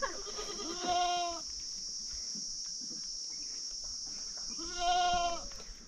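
Goats on a farm bleat in two short bursts, one near the start and another near the end, over a steady high-pitched drone of crickets or insects.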